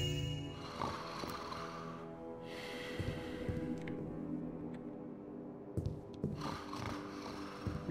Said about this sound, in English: I could just hear this snoring